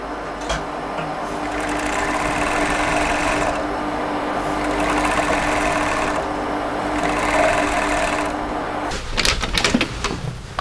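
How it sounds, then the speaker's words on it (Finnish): An overlock serger stitches a seam of a vest in rapid whirring bursts, running in several stretches with brief pauses, loud and close, followed by clattering handling at the end. "Saumurilla tulee tuommoinen huoliteltu toi sauma, niin sit se on nätimpi."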